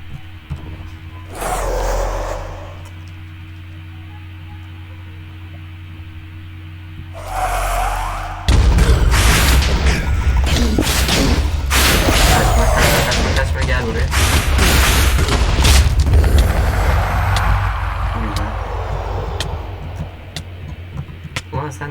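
A wither blows up in Minecraft: a heavy, sustained blast erupts midway and rumbles on loudly to the end, preceded by a couple of softer bursts.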